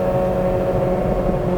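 A Honda Civic Si with a swapped K24 engine comes off throttle, giving a steady, droning exhaust resonance with a sustained low hum, loud and close throughout.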